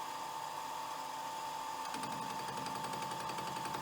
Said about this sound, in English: This sounds a little bit like a wood lathe where you make a square piece of wood round.